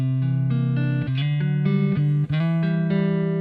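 An electric guitar played on its neck pickup through a Kemper Profiler rings out in a run of sustained, warm, slightly driven notes, each change clearly articulated and loud, with no talking.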